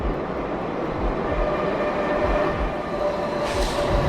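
A subway train arrives in an underground station, loud and close, with a dense rolling rumble and rhythmic wheel thumps over the rails and a brief hissing burst near the end.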